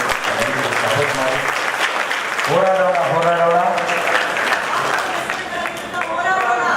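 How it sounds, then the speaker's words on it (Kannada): An audience at an anti-drug-abuse awareness event claps loudly and continuously throughout, with a voice speaking over the applause on a microphone. "ಮತ್ತೊಮ್ಮೆ ಜೋರಾದ ಚಪ್ಪಾಳೆ"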